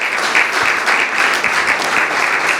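A church congregation claps steadily and loudly, a dense continuous patter of many hands without a break.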